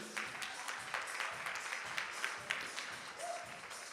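At a youth business awards ceremony, an audience claps in a fairly rhythmic, pulsing pattern, the applause moderately quiet and distant-sounding with a few brief background tones.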